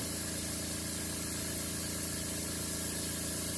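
A steady hiss of spraying air runs continuously over a low mechanical hum, like a compressor running nearby.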